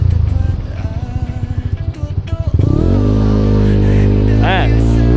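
A motorcycle fitted with an MTRT Evo2 exhaust pipe idles with a fast throbbing pulse, then revs up into a loud, deep, steady bassy drone with a brief rise and fall. The engine is close and loud.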